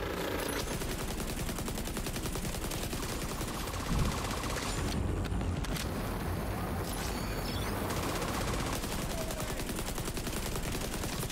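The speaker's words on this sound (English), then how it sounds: "I wonder if I shoot enough holes through this cover, will it actually hurt him?" Sustained automatic gunfire from The Division 2 video game, rapid bursts shredding holes through a piece of cover, loud and continuous with a heavier boom near the middle.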